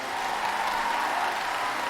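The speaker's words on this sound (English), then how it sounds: "Hey, can we get a round of applause for Taylor Reaper and that wonderful ad?" Applause breaks out for an ad read during a podcast episode: a steady, dense wash of clapping that holds evenly for about two seconds with no voices on top.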